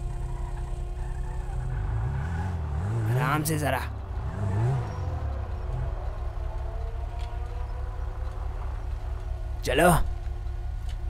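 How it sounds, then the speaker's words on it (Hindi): A car with an HKS exhaust revs up in sharp bursts over a low idling rumble in GTA 5, with people talking over it. "साउंड तो मेरी गाड़ी का जबरदस्त है, मेरा एग्जॉस्ट लेवल का है"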